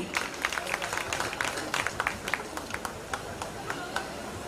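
Audience applause at a Ganesh festival dance performance, a steady patter of many hands clapping with sharp individual claps throughout, moderately loud and mixed with faint crowd noise.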